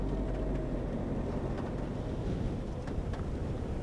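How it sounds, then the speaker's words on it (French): Harsh harmattan desert wind rising ahead of a sandstorm, a steady, loud broadband roar with low rumbling buffets that hold level throughout. "L'harmattan, le rude vent du désert, s'est levé."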